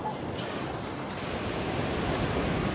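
Ocean waves breaking at a Hawaii beach make a steady, full roar of surf that fills the whole stretch without pause.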